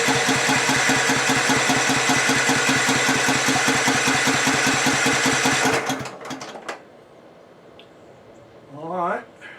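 Husqvarna LTH 1542 lawn tractor engine cranking and catching, then running with a loud, steady rhythmic chug for about six seconds before cutting off into quiet with faint shuffling and a short whine.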